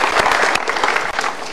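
A television studio audience claps during an Indonesian talk show, giving a brief, dense burst of applause at steady loudness with no voices over it.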